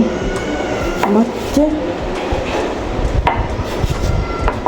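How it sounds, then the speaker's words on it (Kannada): A knife chops through a heavy half watermelon for juice, a series of firm, irregular thuds and cuts close by, with someone talking throughout. "ನಾನು ಹಾಫ್ ವಾಟರ್ ಮೆಲನನ್ನು ಕಟ್ ಮಾಡಿ ಇದು ಜ್ಯೂಸ್ ಮಾಡ್ತೇನೆ ಇದರದ್ದು"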